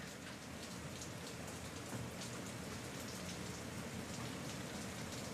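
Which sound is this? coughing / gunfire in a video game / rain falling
rain falling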